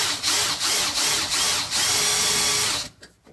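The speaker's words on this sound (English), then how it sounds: "Just gonna put a little drill hole in there." A power drill whines at high speed while boring a hole in the metal seat pan of a 1973 Ford Mustang Mach 1, rhythmically pulsing before stopping abruptly near the end.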